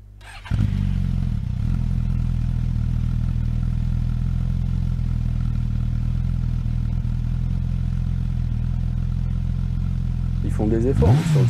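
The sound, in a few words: Suzuki GSX-S1000 GX four-cylinder engine sound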